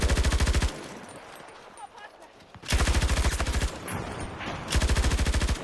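An LMG fires in sustained, rapid bursts in Battlefield 2042, close and loud, with three long rattling volleys separated by quieter stretches of background battle noise.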